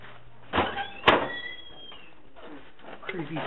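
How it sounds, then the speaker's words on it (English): A heavy door creaks open aboard the Queen Mary in the boiler rooms at night, a long drawn squeak followed by a sharp knock, with faint voices murmuring afterward. "Creepy squeaky door, right?"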